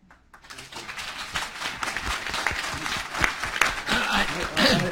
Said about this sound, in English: That's a predictable applause.